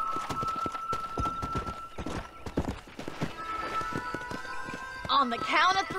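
A horse gallops in the video game Red Dead Redemption, rapid hoofbeats thudding in a steady rhythm under a voice, followed near the end by a whinny.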